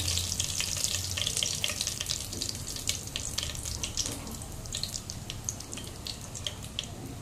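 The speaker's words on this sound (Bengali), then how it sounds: "ফোড়নে তেজপাতাটা দিলাম, সাথে জিরে আর রাঁধুনিটাও দিয়ে দিচ্ছি।" Bay leaf, cumin seeds and radhuni sizzling in hot oil for a Bengali bhoger khichuri tempering, a steady close crackle with scattered sharp pops throughout and no voices.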